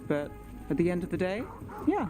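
Dog barks and yips in the video game Dragon Age, a few short close bursts mixed in with someone talking over them.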